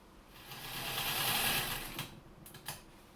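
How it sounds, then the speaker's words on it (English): A home sewing machine stitching fabric for a puffy-sleeve cropped top, a rapid mechanical whirr that swells to a steady run, then slows and stops, followed by a few light clicks and knocks of the mechanism. "is me sewing, or actually fighting my sewing machine"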